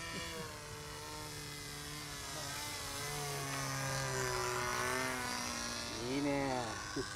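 A Prairie 10 radio-controlled model airplane's small engine whines steadily at high pitch, rising and falling as it revs, with people chatting nearby outdoors.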